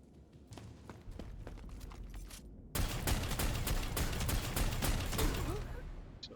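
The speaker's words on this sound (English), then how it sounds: "That's an auto gun," Autogun fire in the Necromunda: Underhive Wars video game: scattered shots at first, then a loud, sustained stream of rapid gunfire that runs on for several seconds without a pause.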